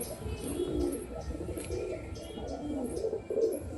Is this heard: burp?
no